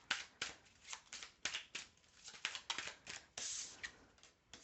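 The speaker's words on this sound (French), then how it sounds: "Allez, je remélange et on tire 5 cartes." Tarot cards being shuffled, a quiet series of papery riffles and snaps repeating in a steady irregular rhythm, close up with no talking.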